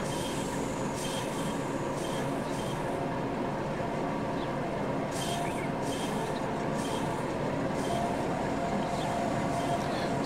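A BR 52 steam locomotive in Deutsche Bundesbahn livery runs in the Transport Fever game, a continuous close rumble of moving rail cars with recurring rhythmic clicks and faint wheel squeals.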